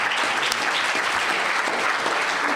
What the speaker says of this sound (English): Again, round of applause, please, and stand up, Dario.